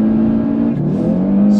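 A sports car accelerates hard on a circuit during an advanced track day, its loud engine holding a steady high drone that dips briefly and then climbs again, close and continuous with no talk.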